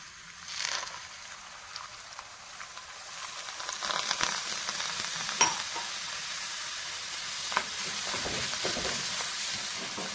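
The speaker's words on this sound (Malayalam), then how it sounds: "ഈ സമയത്ത് നമുക്കിതിലേക്ക് കുറച്ച് വെള്ളം ഒഴിച്ചു കൊടുക്കാം" Water goes into a hot pan of roasted dried gooseberries and crackles and sizzles steadily, a soft bubbling hiss with scattered pops and spatters that grows slightly busier over ten seconds.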